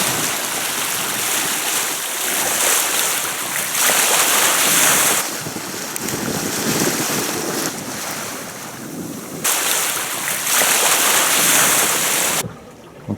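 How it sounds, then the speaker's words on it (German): A sailboat sailing close-hauled at about five knots through waves in a moderate wind: a steady rush of water along the hull and gusty wind buffeting the microphone, rising and falling in surges, with no voices. "dass wir jetzt mit einem leichten Anwindkurs, scheinbaren Wind, da mit gut 5 Knoten auf direktem Kurs Richtung Anholt segeln können"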